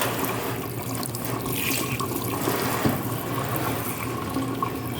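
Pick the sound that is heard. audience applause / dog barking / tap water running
tap water running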